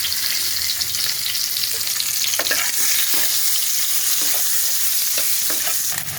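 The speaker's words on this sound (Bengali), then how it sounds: "সিদ্ধ করা আলুটা ভাজা হয়ে গেছে" Boiled potato pieces sizzle steadily in hot oil with turmeric. A dense, constant crackle is broken by occasional sharp clicks and scrapes from stirring, and no one speaks.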